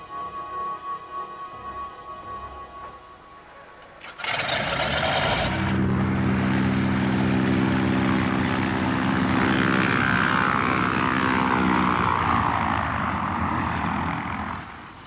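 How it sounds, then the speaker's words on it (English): The Trimotor airplane Floyd Bennett, from Byrd's polar expedition, sits quiet at first, then its engines burst into a loud, steady propeller roar with a throbbing drone that holds close and continuous to the end. "the trimotor, named the Floyd Bennett after Byrd's companion on his North Pole flight, took off with its crew of 4"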